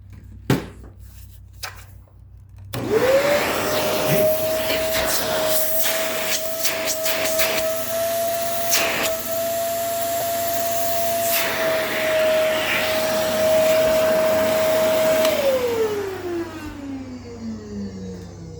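An old vacuum cleaner with a suspected bearing or fan problem switches on, spins up to a steady whining drone for about twelve seconds, then winds down, loud and close.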